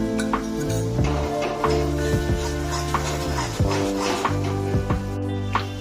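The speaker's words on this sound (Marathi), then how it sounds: "ते मी आता यामध्ये टाकून आपण हे चांगलं परतून घ्यायचं आहे।" Ground roasted masala paste and onion sautéing in prawn-frying oil for a shrimp masala curry, with a steady close sizzle and repeated spoon scrapes and stirring knocks against the pan throughout.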